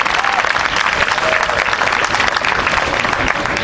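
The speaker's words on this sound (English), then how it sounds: "Give yourselves a round of applause to Dream Charter School kids." Schoolchildren at an outdoor Harlem event with the mayor applaud, a dense, loud, even wash of clapping from a sizable group that holds steady throughout.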